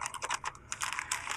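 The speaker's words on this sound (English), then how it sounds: "This is a really beautiful keyboard." Keys clatter on an old Apple ADB computer keyboard in quick, uneven bursts of clicks, close by and fairly quiet, with short pauses between runs.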